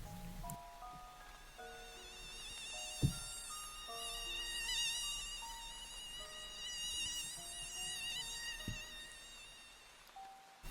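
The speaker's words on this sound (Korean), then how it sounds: "진짜 모기와 똑같은 소리가 나는 것입니다" A high, thin mosquito whine drones steadily for the whole stretch, wavering in pitch with several overlapping tones over faint background hiss; a single brief spoken word and a couple of soft knocks break in.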